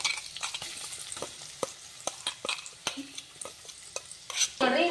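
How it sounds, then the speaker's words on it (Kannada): Ground coconut and mustard masala sizzles and crackles in hot tempering oil while a spoon stirs, with scattered sharp scraping clicks against the pan. "ನೋಡ್ರಿ ಈ ರೀತಿ ರುಬ್ಕೋರಿ ಇದನ್ನ ಈಗ ಒಗ್ಗರಣೆ ಒಳಗೆ ಹಾಕೋರಿ"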